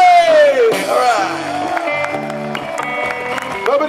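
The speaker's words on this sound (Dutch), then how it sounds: "Mag ik een oorverdovend applaus?" Concert audience at an outdoor park show in Zottegem cheering and whooping for the drummer, a dense crowd roar with shouts mixed with music and a voice at the start, steady and loud throughout.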